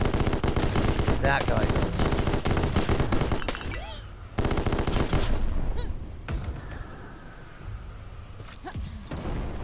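Mortar and gunfire in the PC video game Black Skylands, a dense barrage of rapid shots and thumping blasts throughout that thins out after about four seconds, with a voice speaking briefly over it.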